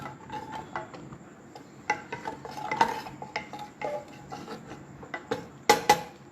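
A spoon scrapes and clinks against a pan while stirring a cream sauce with garlic, onions, oil and red chili powder over low flame, a run of light irregular taps and scrapes up close with no talking.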